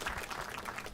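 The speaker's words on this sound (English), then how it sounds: "we're gonna give the Richards clan an applause." Audience applause for a family group at a live marriage-themed show, a steady dense wash of clapping filling the whole second, moderately loud and close.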